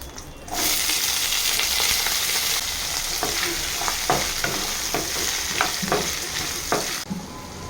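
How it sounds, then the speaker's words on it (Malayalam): Brinjal for kichadi sautés in a hot pan with a steady loud sizzle, while a spoon stirs through it in repeated scraping strokes, and the frying hiss stays constant throughout. "നമുക്ക് നല്ലോണം ഒന്ന് വഴറ്റിയെടുക്കാം"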